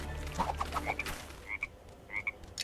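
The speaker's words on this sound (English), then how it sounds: "I do see a frog, though" A frog in a Lego Worlds game croaks in a quick series of short, chirpy calls, fairly faint against a quiet background with no talking.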